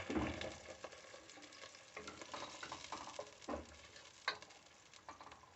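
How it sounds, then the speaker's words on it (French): White wine poured into a hot pan to deglaze it while making a pork sauté with olives, giving a steady close sizzle with scattered crackles and stirring clicks, no voices. "déglaçage au vin blanc"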